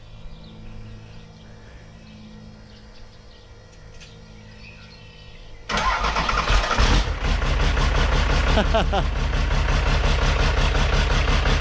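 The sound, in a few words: Cummins 5.9 12-valve turbo diesel engine running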